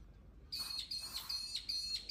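A high, thin bird call repeating in quick short notes, fairly faint and alone against quiet outdoor background.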